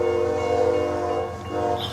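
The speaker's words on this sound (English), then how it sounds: "here comes our train, M512" M512 freight train, a grain train, passing near a crossing in Madisonville, Kentucky, with a loud sustained chord-like horn blast over rumbling wheels, the horn close and steady before dipping slightly.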